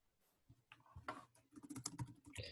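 Bursts of clattering keystrokes on a computer keyboard, irregular and quiet, with quick runs of taps separated by short pauses.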